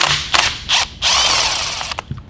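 Plastic trim panels being worked loose from a Ford Focus ST steering wheel with Torx bits, giving close, loud bursts of ratcheting, scraping plastic clicks and a sustained grinding rasp, with no talk.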